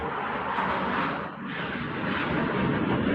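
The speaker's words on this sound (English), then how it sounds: "hey, you can hear a plane" A fixed-wing airplane passes overhead, its engine roar a steady broadband rumble that fills the clip, slightly dipping midway then swelling again as it stays loud and close.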